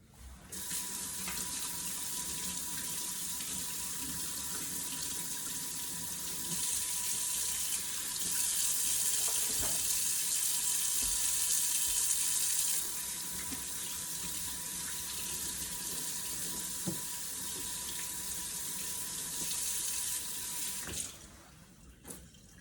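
Kitchen faucet running steadily while sliced red bell peppers and other vegetables are washed for a pot roast, a continuous close hiss of water with brief louder surges and small clinks, cutting off near the end without any speech.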